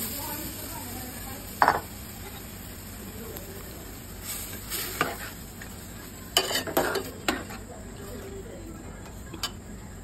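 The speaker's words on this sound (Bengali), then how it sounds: "সিম আলু মাছ সব কষছে" Beans, potatoes and fish sauté in a pan for a village-style cauliflower and rohu fish curry, with a low sizzle underneath. Scattered utensil scrapes and clinks come through it, and a voice speaks faintly in the background.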